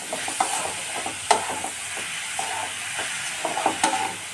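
Grated ridge gourd stirred into a frying pan with turmeric and salt, giving a steady close sizzle broken by scraping spoon strokes and soft clacks against the pan.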